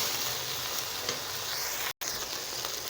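Raw okra sautés in a pot with a dense, close frying sizzle and light stirring scrapes, broken by a split-second dropout, with no voice.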